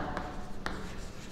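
Writing out a definition during a maths lesson, with short scratchy strokes on a board or paper, two brief distinct marks over a quiet room tone.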